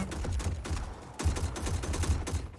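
Rapid bursts of gunfire from Sonya's gun in the fighting video game Mortal Kombat 11, a dense crackling volley running the whole time with a brief gap near the middle, loud and close.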